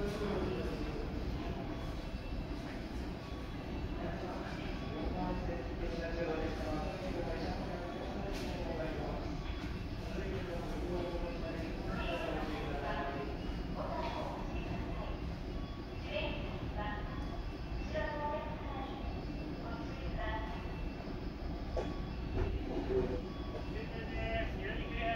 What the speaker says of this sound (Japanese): この電車は車庫に入ります。